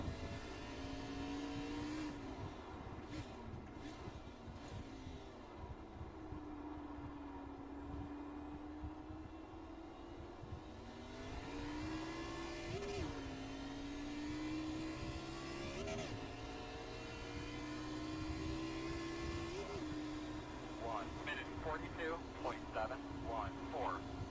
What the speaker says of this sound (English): I can hear it's revved up too high